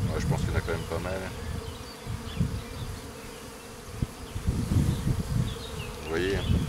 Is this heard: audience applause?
no